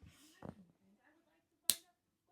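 A single sharp finger snap rings out alone and close, preceded by faint soft voice sounds in a quiet room.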